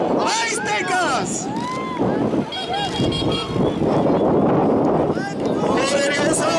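Strong wind buffets the microphone with a loud, constant roar while excited voices shout and chatter throughout.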